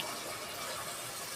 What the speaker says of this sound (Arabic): ابدا اقوم حاطه لها كوبايه ميه على البصله كده وايه مع اللحمه